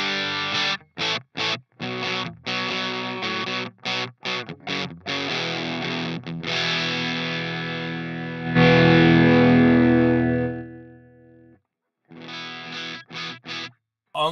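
Electric guitar through a Line 6 Helix amp model with drive: distorted, crunchy chords and choppy muted stabs, then a sustained ringing chord that fades out before a few more staccato strikes.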